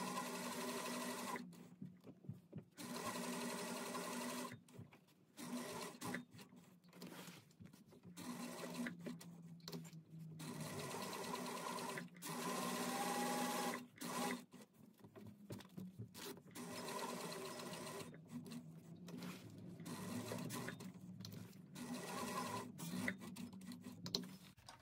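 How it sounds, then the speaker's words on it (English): Sewing machine top-stitching an 1/8 inch seam around the box of a bag pocket, a steady close motor whir in long runs broken by brief pauses, no talk. "I'm going to top stitch all the way around this box with an 1/8 inch seam allowance"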